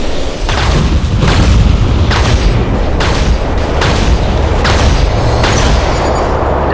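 Weapon shots and explosions from the War Robots video game, a run of heavy booming blasts repeating about every second, loud and close, each with a low rumbling tail.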